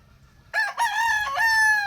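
A Boston Black rooster with a straight comb gives one loud, close crow that starts abruptly and holds a drawn-out, wavering call to the end.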